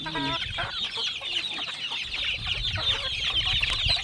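A flock of chickens and chicks clucks and peeps at close range. A near cluck opens the stretch, and a dense chorus of high cheeping runs underneath throughout, with no speech.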